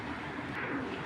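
A racing pigeon gives a quiet, brief coo, faint and muffled against a low background hum.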